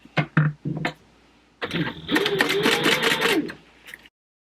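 A sewing machine topstitches fabric for a house robes bag with a long stitch length, starting with a few short bursts before running in a steady whirring stretch of about two seconds, close and clear.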